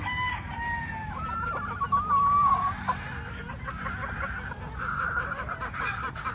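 National banded gamefowl cluck and crow nearby on a farm, one rooster's crow rising clearly over a steady, noisy flock chorus.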